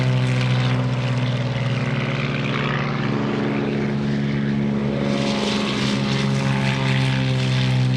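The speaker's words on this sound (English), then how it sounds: "This is the Beechcraft T-34 Mentor." A Beechcraft T-34 Mentor, a single-engine military trainer propeller plane, drones loudly and steadily overhead at an airshow, its engine tone shifting slightly as it passes, with a rising roar toward the end.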